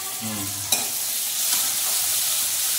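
Tomatoes dropped into a pan of frying spices (poppy seeds, coriander, cumin, garlic, ginger, cloves, cinnamon, cardamom), with a sharp burst then a loud, steady hiss of sizzling oil.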